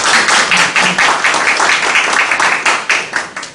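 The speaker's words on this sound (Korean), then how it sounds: "큰 박수 부탁드립니다." An audience at a panel talk claps for a speaker being introduced, a short burst of close, sharp applause with individual hand claps audible, fading slightly toward the end.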